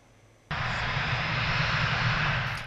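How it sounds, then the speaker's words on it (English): A plane landing in Rotterdam: after a quiet start, a loud jet engine roar cuts in abruptly and holds steady, easing slightly at the very end. "Touching down to face the International Criminal Court, the plane believed to be carrying the former leader of the Philippines, Rodrigo Duterte, landing in Rotterdam"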